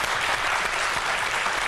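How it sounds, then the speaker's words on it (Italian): A studio audience claps together in dense, steady applause for a TV football comedy show vote, loud and continuous throughout. "L'applausometro, chiediamo al pubblico di votare per Alfonso De Lucia."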